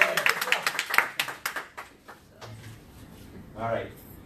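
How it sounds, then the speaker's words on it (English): A small audience gives a short burst of rhythmic clapping that fades after about two seconds, followed by someone speaking. "Give him a round of applause."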